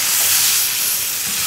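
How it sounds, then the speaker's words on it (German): Beef fillet sears in a hot pan with butter, giving a loud, steady, close hiss and sizzle with no talking. "Und da geben wir jetzt unser Fleisch direkt drauf."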